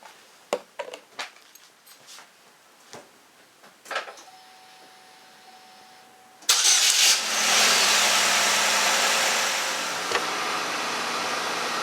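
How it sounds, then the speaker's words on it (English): A car engine, just treated with an oil flush, turns over after some scattered clicks and knocks, then catches and settles into a steady, loud idle that continues to the end. "run the engine for 5 minutes at just above idling"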